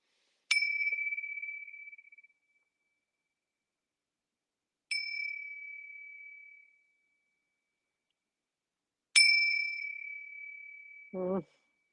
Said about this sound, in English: Let's ring the bells for some clearing, see what wants to come through.